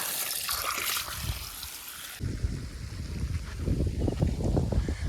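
Water flowing through a farm plot to irrigate coconut trees, a steady rushing trickle and gush, near and moderately loud, with a brief change midway and no talk.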